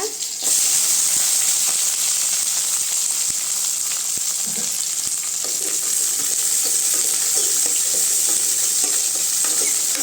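Curry leaves, green chilli and onion fry in hot oil in a steady, loud sizzle throughout, with faint stirring scrapes along the way.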